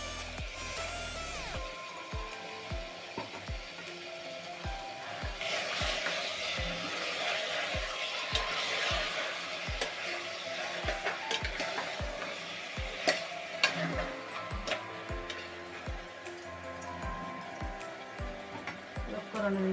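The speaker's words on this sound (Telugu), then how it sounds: "ఒక 2 నిమిషాలు ఫ్రై చేద్దాం." Tomatoes sizzling in a pan with potatoes and fenugreek for a Telugu bean curry, a steady close fry with regular spoon knocks against the pan, while a person talks at times.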